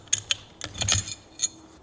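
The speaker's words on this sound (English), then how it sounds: "when you tighten those up, that's what sets the position of your armrest" Tapered head screws being tightened on an armrest, giving a few close, sharp metallic clicks and a brief ratcheting rattle in the middle, with no talk.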